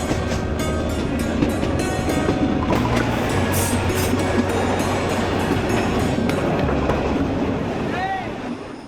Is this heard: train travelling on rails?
yes